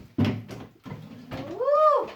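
A handmade wooden drawer in a van build slides and knocks, giving a short thud followed by scraping wood and a rising, squeaky glide, close and brief.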